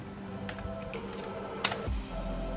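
Computer keyboard keys pressed in a handful of soft, irregular clicks, near and quiet, with one sharper tap and a low thud near the end.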